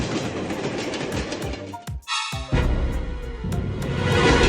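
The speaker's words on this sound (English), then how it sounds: "Train." A cartoon train rumbles past with continuous rattling and a loud rushing roar, briefly cutting out before the clatter resumes and builds, in an animated educational construction-vehicle show.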